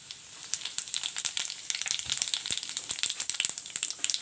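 Bay leaves, three dry chilies and cumin seeds crackle and sizzle in hot oil for a village-style egg curry, a steady close frying hiss broken by sharp pops and spits throughout.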